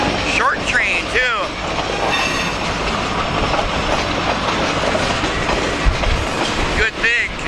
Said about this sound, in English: KLS 402 and 503 heading south.